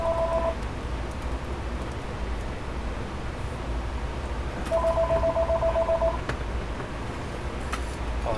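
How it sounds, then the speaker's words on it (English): A telephone rings in two trilling electronic bursts, a short one then a longer one, moderately loud over heavy steady background noise in a workshop setting. "Apologize for the phone."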